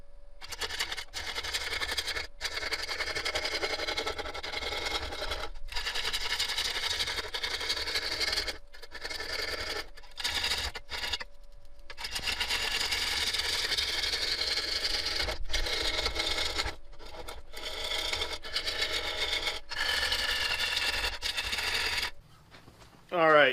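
Large wooden bowl for a shou sugi ban piece turning on a woodturning lathe as its bottom is flattened, a steady hissing scrape from the tool broken by brief pauses, close and continuous.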